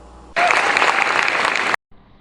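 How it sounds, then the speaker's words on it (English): Audience applause for a stage performer billed as Sir David the Bard, loud, close and dense, bursting in abruptly, holding steady, then cutting off sharply into near silence. "thank you for your applause"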